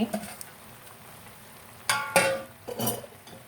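River snails being stirred with Chinese basil leaves in a cooking pot: a low sizzle runs underneath, with a few scraping, clinking stirs and bursts of louder frying near the end.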